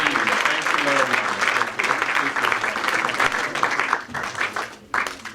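Audience applause at a short film festival in Cyprus, a dense, steady patter of many hands clapping that holds for several seconds before thinning slightly, with a voice speaking over it.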